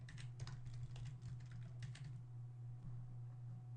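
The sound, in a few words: typing a coupon code on a computer keyboard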